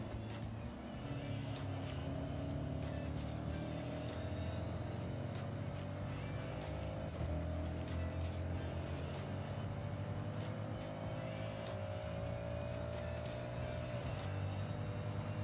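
A car engine in the racing game Forza Horizon 6 drones steadily at high revs, its pitch slowly climbing through the gears in a dense, continuous roar with no talking.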